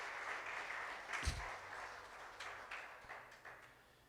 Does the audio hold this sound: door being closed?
no